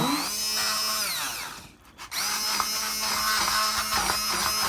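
An electric mixer whips curd loudly and close, its motor whirring with pitch rising and falling, cutting out briefly before starting again and running steadily.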